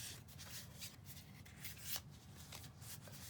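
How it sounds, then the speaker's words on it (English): Soft, close riffling and flapping of an oracle card deck being shuffled, repeated quick bursts over about three seconds. "So this deck shuffles beautifully."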